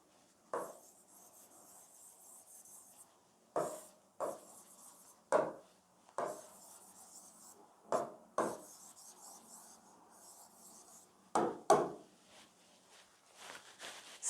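Chalk or marker strokes on a board as a sentence is written, short scratchy bursts with pauses between them, close and fairly quiet.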